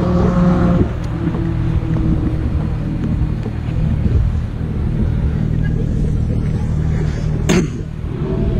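A supercar driving past during a car photography outing, a loud, broad engine rumble that holds steady and slowly fades as it moves away, with outdoor noise and a sharp click near the end.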